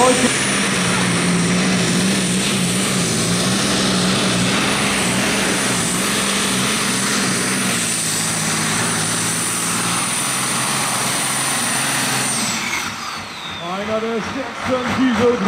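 A tractor pulling engine roars under strain in the 2.5 tonne free class, a loud, steady droning growl held for several seconds before it suddenly drops away near the end.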